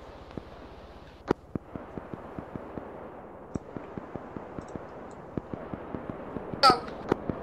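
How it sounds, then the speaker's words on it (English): Gunfire rattles through an Arma 3 firefight, with steady single shots and short bursts at mid distance, punctuated by a couple of louder, closer cracks. "Shooting at me!"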